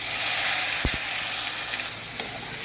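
Cumin seeds, a bay leaf and two dried red chillies sizzle and crackle in hot oil in a pan, a steady bright frying hiss with a couple of low knocks of a spoon or pan.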